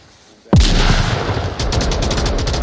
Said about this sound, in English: Great nade there from Mean Machine is going to down WarthugQC.